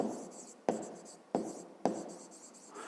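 Handwriting on paper while working a fifth-grade maths exercise: a pen scratches in short strokes, with sharp taps marking each new stroke roughly every half second.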